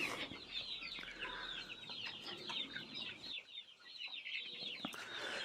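Gramasree chickens at a Kerala poultry farm cluck and chatter as a busy flock, a continuous faint mix of overlapping calls at a moderate distance.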